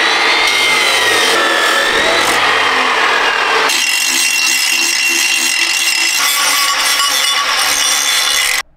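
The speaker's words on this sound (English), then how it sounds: "I got the downpipe cut off" A metal exhaust downpipe on a Ford Dentside truck with a Cummins diesel is cut through, producing a loud, harsh, continuous grinding rasp up close that shifts in pitch partway through and stops abruptly at the end.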